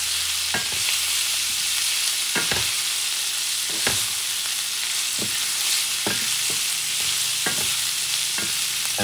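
Smoked sausage, bacon and salted pork sizzle loudly and steadily in a pot while a utensil stirs them, about a dozen sharp scraping knocks at an uneven pace, close and with no voices.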